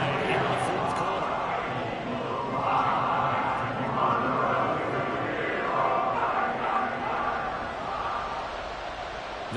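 A football stadium crowd roars steadily after a fourth-quarter score ties the game, a dense continuous cheer that stays loud and sustained throughout.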